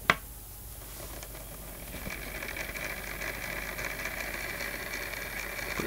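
A homemade pulse motor with magnets spinning on its rotor gives a steady, close mechanical whir with a faint high tone, starting after a brief click and holding constant throughout, with no voices.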